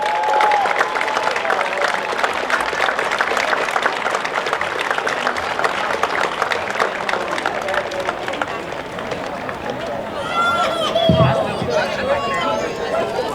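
A crowd gives sustained applause honouring a La Salle track and field legend, a loud, steady mass of clapping with cheers and chatter mixed in, and a few whistles near the end.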